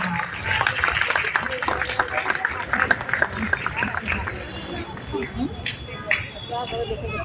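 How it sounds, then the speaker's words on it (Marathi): Applause from an audience at a school event for children who have just sung two songs: steady, dense clapping, fairly loud and continuous, mixed with crowd murmur and talking throughout. "त्या मुलांसाठी एकदा जोरदार टाळ्या वाजवा"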